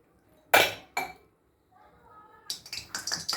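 A wok goes onto a stove and a little oil is added, heard as sharp metallic clanks and clinks of cookware, close and loud in short bursts, with a brief sizzling or scraping in between.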